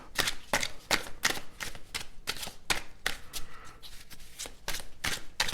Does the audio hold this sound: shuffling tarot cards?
yes